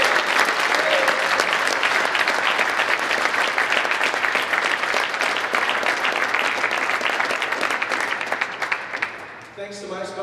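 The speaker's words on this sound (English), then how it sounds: "they deserve a big round of applause for the tournament" Sustained applause from an audience at a racquetball tournament, dense steady clapping that fills the space, holding loud for about nine seconds before thinning out.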